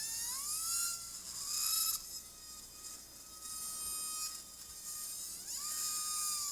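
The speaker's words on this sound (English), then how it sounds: "I'm going to drill some of this away." A high-speed surgical drill whines steadily as it grinds away bone during lumbar spine surgery, its pitch dipping and rising again as it bites, close and continuous.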